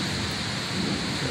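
Heavy rain pours steadily during a severe thunderstorm in Austin, Texas, a dense loud wash of rainfall with a low rumble underneath, continuous throughout with no talking.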